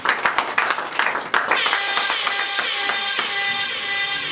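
Audience clapping at a foundation inauguration ceremony in Kinshasa, starting as scattered sharp claps and quickly swelling into dense, steady applause from a crowd.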